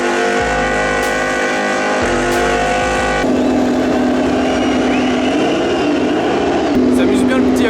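Riding inside a safety car drifting around a race track, the engine roars loudly with abrupt shifts in pitch as it revs and settles, steady and close throughout.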